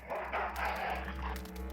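A brief, faint dog bark and yip in Full Throttle Remastered, soft and close, over a low steady hum.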